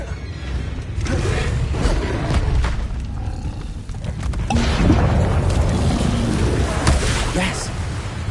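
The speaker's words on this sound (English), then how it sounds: "Expelliarmus!" The Expelliarmus spell cast in the video game Hogwarts Legacy comes as a loud, sustained rushing roar with booming low rumble, swelling again midway and holding strong to the end.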